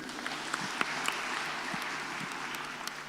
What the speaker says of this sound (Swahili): Toto wapigiwe makofi.